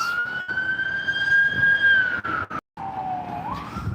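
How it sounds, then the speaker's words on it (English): An ambulance siren wails steadily at moderate distance on a Las Vegas street, holding a high sustained tone before briefly cutting out and dropping lower as it passes. "Oh, we have an ambulance."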